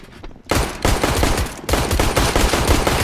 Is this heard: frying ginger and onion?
no